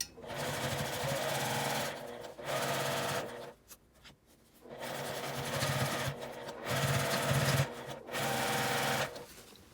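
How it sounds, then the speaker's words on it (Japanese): A sewing machine runs in several bursts, stitching along the folded top edge of a large drawstring knapsack-style bag, with short pauses between runs and back-stitching at the drawstring. "上端に端ミシンをかけます。"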